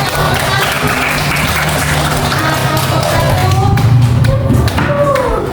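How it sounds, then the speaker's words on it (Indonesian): Classroom applause for the first group of pupils at a primary madrasa in Gorontalo, a steady patter of many small hands clapping with some thuds and taps mixed in, close and fairly loud throughout. "Tepuk tangan kepada"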